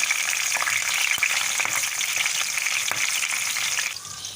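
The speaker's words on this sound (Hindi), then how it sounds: "मिर्चें फ्राई होनी शुरू हो गई हैं" Green chillies fry in hot oil for dal, a steady close sizzle with faint crackles and light stirring clicks throughout, easing slightly near the end.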